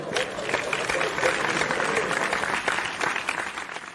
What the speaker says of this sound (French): pouvons-nous applaudir pour accueillir